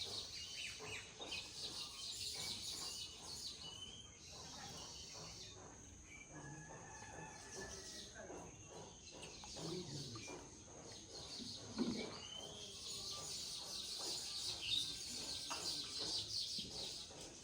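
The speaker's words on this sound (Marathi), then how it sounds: "पक्ष्यांचा आवाज आहे का किती सुंदर वाटतं" Birds chirping outdoors in rural Konkan during Ganpati festival time, with varied small calls scattered over a constant high insect drone, all faint and distant, with occasional soft background noise.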